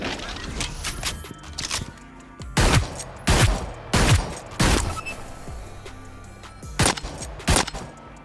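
Riot 1, a slow-firing heavy pistol in the video game Hyper Scape, fires loud single shots, about eight heavy blasts spaced irregularly with short gaps between them. Quieter game ambience and handling sounds fill the pauses.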